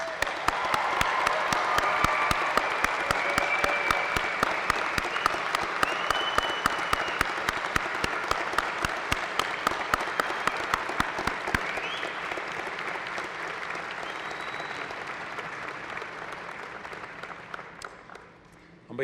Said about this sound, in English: How about a round of applause to the 2017 grads?